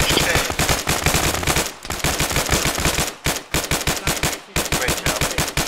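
Sustained automatic gunfire in the military video game ShackTac, loud, close and continuous, with short rhythmic bursts broken by a few brief pauses.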